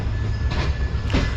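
Shalimar Express pulling out of Nawabshah railway station, a loud, close rumble of wheels on track with clattering bursts and a brief metallic squeal, continuous with no talking.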